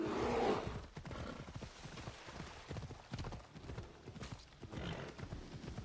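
Horse hooves clip-clop steadily across open terrain in Assassin's Creed Odyssey, a loud rhythmic gallop with a brief whinny at the start and game ambience underneath.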